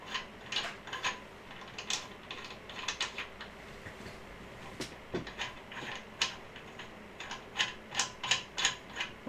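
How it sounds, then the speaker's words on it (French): Metal bolts on a Clarel Roc lantern being loosened and tightened again and again, giving close, irregular bursts of small mechanical clicks and ratcheting taps that cluster more densely toward the end, with no voices. "J'ai resserré les boulons"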